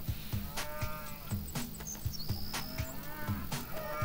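Cattle mooing in the farming game Farm Manager 2018, several low lowing calls repeating steadily over a busy, continuous game soundscape with faint bird chirps in the background.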